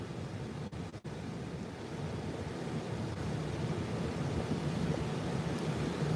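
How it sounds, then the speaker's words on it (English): Big ocean waves breaking on the beach at Padre Island, Texas, a steady loud roar of surf that never lets up, mixed with wind buffeting the microphone and no voices. "It's cool sitting here watching the waves."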